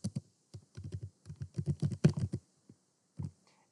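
Fingers typing a Fiverr profile description on a computer keyboard: quick bursts of close key clicks in irregular clusters separated by short pauses, alone without speech.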